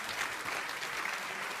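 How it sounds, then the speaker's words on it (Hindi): Studio audience on an Indian Hindi-language TV debate show breaks into steady, dense applause, a continuous wash of clapping filling the whole moment without pause. "ताली बजाइए भाई"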